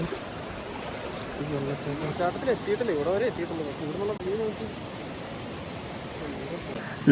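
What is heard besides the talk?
monsoon waterfall with strong flow, Mamalakandam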